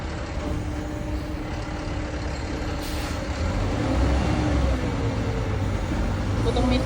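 A garbage truck with a single driver lifts a bin at the curb, its heavy engine rumbling steadily close by and growing slightly louder toward the end, with voices at times.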